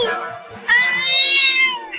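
In a cartoon, a cat gives a loud, drawn-out, rising and falling meow close up, after a lower cry and before a short final mew.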